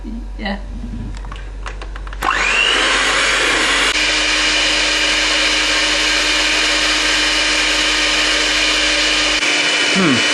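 A mixer whirs steadily, blending the sugary filling for a gypsy tart after a few clicks and knocks at the start, running loud and continuous to the end.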